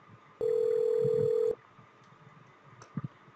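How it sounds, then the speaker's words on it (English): A 3CX VoIP phone system rings for an incoming call, one steady electronic tone lasting about a second, followed by quiet background and a couple of soft clicks. "So I got the phone call."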